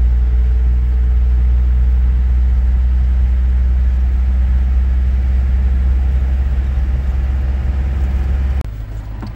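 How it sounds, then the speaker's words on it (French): A steady, low engine rumble idles close by for several seconds, then drops slightly in level near the end. "Le bruit du moteur, j'adore."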